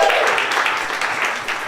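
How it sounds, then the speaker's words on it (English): Audience applauding at an improv comedy show, a steady wash of clapping from a crowd that holds at an even level and thins slightly toward the end. "let's give some round of applause to Lights and Sound"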